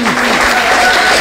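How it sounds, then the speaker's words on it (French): Dense applause from a group honoring comrades at a reception ceremony, continuous and loud, close by, with voices mixed in. "On les salue avec des acclamations."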